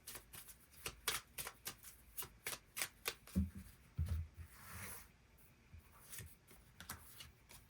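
Tarot cards are shuffled by hand in a quiet room, a steady series of soft, crisp riffling and sliding flicks in an irregular rhythm, close and fairly gentle, with no talking.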